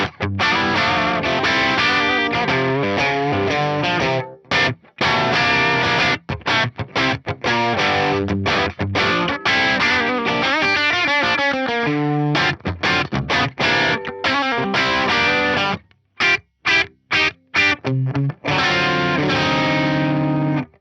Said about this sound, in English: I'm trying to play like bluesy stuff on a guitar in drop C